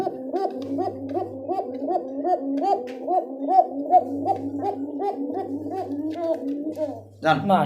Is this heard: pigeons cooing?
yes